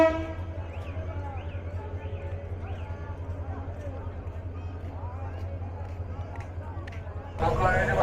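Train No. 704 Down, the Mohanagar Provati Express, rolls into platform 2 at Bhairab Bazar Junction with a steady low rumble, faint horn-like tones above it, and a louder surge of noise near the end.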